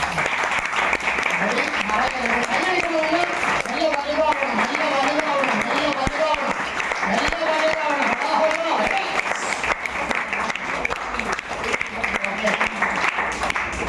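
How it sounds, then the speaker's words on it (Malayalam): An audience claps on request, a dense steady patter of applause that runs throughout while someone talks over it in a sustained, melodic voice. "നിങ്ങളെ എല്ലാവരും ഒന്ന് കൈയടിക്കണം പ്ലീസ്"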